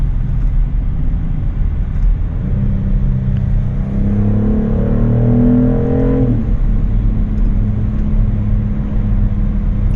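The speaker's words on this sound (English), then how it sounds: "it'd be nice to hear some harmonious sound from the engine" A 2025 BMW X3 M50 engine revs up in a steady, continuous rumble, with a rising whine that builds for a few seconds and then settles back to a low drone, with no talking over it.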